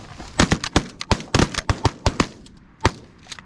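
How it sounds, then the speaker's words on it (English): Shotgun fire during a goose hunt, a rapid volley of sharp, loud blasts from several guns in quick succession, then a lone later shot, with no talking over them. "Stop shooting!"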